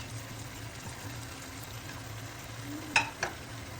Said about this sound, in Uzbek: Yaxshilab qovurib bo'lgach, piyozlarni solamiz.